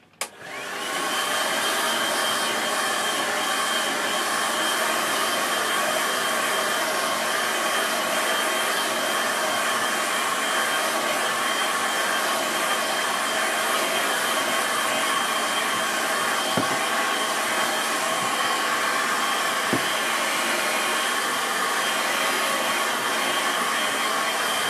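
A hair dryer blowing over a wet watercolour landscape painting, switched on at the start and then holding a loud, steady whoosh with no pauses and no talking.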